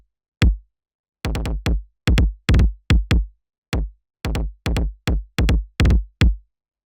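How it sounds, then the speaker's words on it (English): A Roland-style 707 drum machine kick plays a looping, syncopated pattern of short, punchy thumps with crisp attacks, isolated and loud in the foreground. "What it is, it's a 707 kick"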